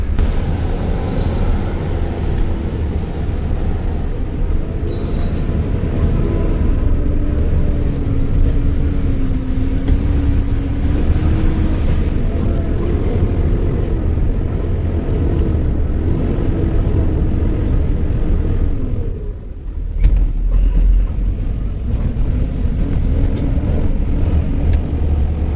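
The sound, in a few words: overloaded vehicle crossing the Garipur railway line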